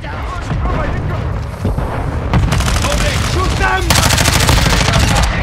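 Gunfire in the Call of Duty map Shipment, loud rapid automatic bursts that grow denser toward the end, under a player's speech.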